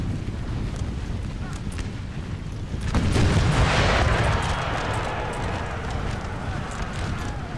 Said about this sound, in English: Austrian cav coming in from the back.